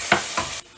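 Ginger garlic paste with turmeric and salt is sautéed in a pan for broad beans fry, giving two short stirring scrapes over a steady close sizzle that cuts off abruptly near the end.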